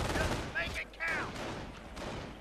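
Gunfire in a squad-based war strategy video game as a squad fires on medics: bursts of shots and crackling rifle fire mixed with other battle effects, with people talking over it.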